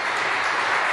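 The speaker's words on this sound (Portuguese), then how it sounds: "Vamos aplaudir o Senhor Jesus porque ele merece." A church congregation applauding during a service, a dense continuous wash of clapping heard loud and close for under a second.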